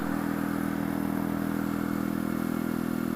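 Steady, loud engine drone of a Mutt Hilts motorcycle cruising at about 50 mph uphill through congested traffic, a continuous even hum with wind rush and no pauses.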